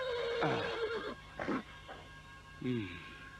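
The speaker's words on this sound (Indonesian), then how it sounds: "Aku mendengar suara ringkik seekor kuda di tengah hutan sana." A horse whinnies in a forest, a long descending neigh followed by shorter snorting calls and a second whinny near the end, fairly close over a faint background hum.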